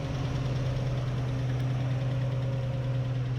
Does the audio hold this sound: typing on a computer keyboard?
no